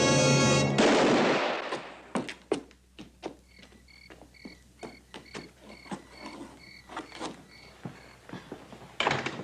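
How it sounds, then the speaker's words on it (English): A single loud, sharp gunshot cracks at the start inside a Western setting, followed by a string of quieter clicks and knocks that fade away. "Where'd that shot come from?"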